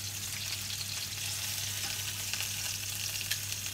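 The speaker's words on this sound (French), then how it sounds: "Maintenant, je le fais cuire à peu près 5 minutes de ce côté." A thick duck breast (magret) fries in a pan for several minutes on one side, producing a steady, dense sizzle and crackle throughout, with no talking.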